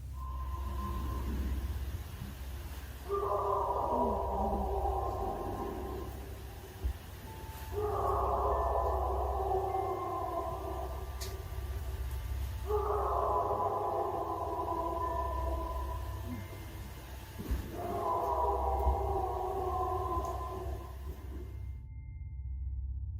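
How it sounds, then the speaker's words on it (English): Four long, deep bellowing calls sound from a distant forest, each lasting a few seconds with a rough, growling tone. They rise and fall over a steady low background rumble, with no speech. "strange and deep, bellowing noises erupted from the distant forest."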